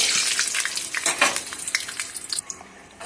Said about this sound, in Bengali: কাজুটা ভেজে নিলাম